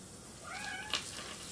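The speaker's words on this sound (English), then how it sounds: "That's my cat you probably hear." A Maine Coon cat gives a single drawn-out meow that rises and falls, fairly faint over a steady room hum, with no voices.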